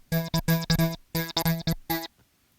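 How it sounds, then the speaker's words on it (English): Rhythmic Fat Synth Rhythm patch from GarageBand's Alchemy synth, heavily microphased with basic EQ, playing short chopped stabs in a counted five-beat pattern, loud and alone, ending in a brief tail. "I'm using the Fat Synth Rhythm from the rhythmic section of the Alchemy Synth"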